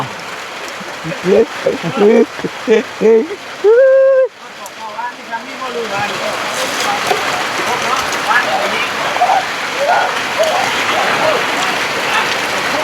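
Rain falls steadily as a broad, close hiss through most of the stretch, while a voice talks briefly near the start before the downpour carries on alone.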